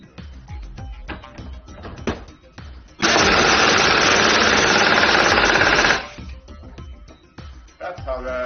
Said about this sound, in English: That's how the pulse tool works.